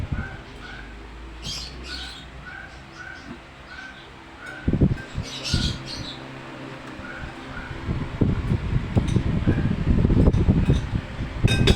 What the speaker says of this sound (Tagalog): Kaya lang umiingay yung fan